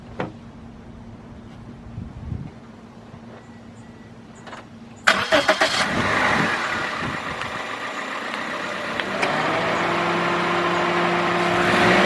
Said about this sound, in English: let's start this up and see how this car runs